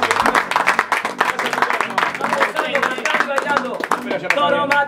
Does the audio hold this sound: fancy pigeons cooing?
no